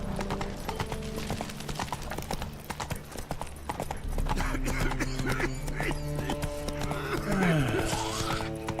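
Horse hooves clip-clop in a steady galloping rhythm in The Witcher 3 game, close and loud under continuous music, with a brief whinny near the end and some speech.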